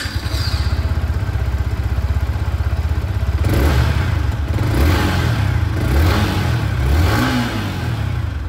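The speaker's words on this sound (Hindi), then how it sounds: "अब हम लोग यहाँ पर जो न्यू एक्सएसआर 155 है इसकी भी आवाज़ सुन लेते हैं" A Yamaha XSR 155 motorcycle idles with a steady close engine thrum, then is revved repeatedly in several sharp rising and falling bursts, loud and alone without talk.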